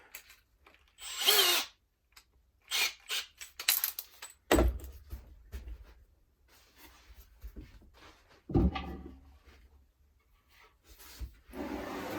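A brad point bit drills a hole through a wooden mason bee block in short bursts, with a few loud close-up spurts of drilling and handling knocks between them and no talk.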